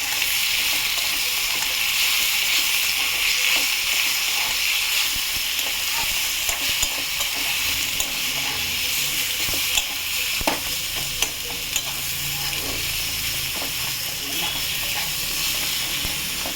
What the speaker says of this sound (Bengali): হলুদ দিলাম, নুন দিলাম, একটু নাড়বো